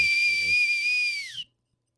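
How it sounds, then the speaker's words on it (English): A Homeland Security whistle gives one long, piercing, steady blast that bends downward and cuts off sharply after about a second and a half, with brief low noise at the start. "So I blow this whistle."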